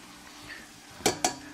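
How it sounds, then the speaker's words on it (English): Canned cream of chicken and cream of celery soup get a quick stir in a pot or dish, a soft scrape followed by two sharp utensil clinks against the side. "Alright, give that a simple stir."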